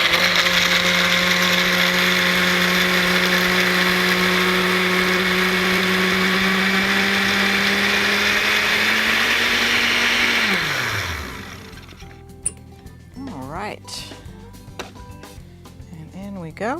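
A kitchen blender whirs loudly and steadily, churning a chocolate orange shake with ice cubes, then winds down and stops, leaving a few clinks and soft handling noises.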